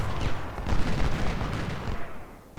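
Battle sounds from Ultimate General: Civil War at the Battle of Chickamauga, with dense overlapping artillery booms and rolling musket gunfire, moderately loud and continuous.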